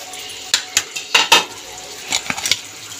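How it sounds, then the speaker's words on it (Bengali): A lid is lifted off a pot of cooking cabbage, giving a handful of close metallic clanks and rattles over a faint background hiss, with no talking. "কিছুক্ষণ পর ফ্রেন্ডস আমি ঢাকনাটা খুলে দিচ্ছি"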